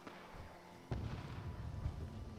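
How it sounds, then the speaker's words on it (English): Distant gunfire in a tactical shooter game, a sharp report followed by a rolling low boom that trails off, with faint background ambience and no talk. "We got some gunshots to the west."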